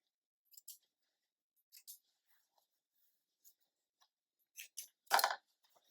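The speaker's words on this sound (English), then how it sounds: "take that out and cut the threads" Scissors snipping sewing threads on linen after machine stitching, a few quiet sparse snips spread out in near silence, ending with a slightly louder cut.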